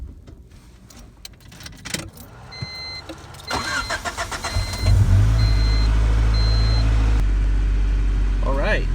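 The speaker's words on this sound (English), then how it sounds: "We're gonna see exactly what happens when I turn the car on." A Honda car with a new Hondata S300 ECU starting up: a door-chime beeping and rattling keys first, then the starter cranks and the engine catches into a loud, steady idle that carries on to the end, with a brief voice near the close.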